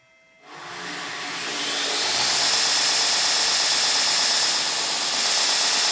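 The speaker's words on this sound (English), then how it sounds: "But I'll just turn it on now and just show you how easy it is to track the grinder." A 2x72 belt grinder switches on and spins up, its motor and belt rising to a loud, steady whir and holding there without speech.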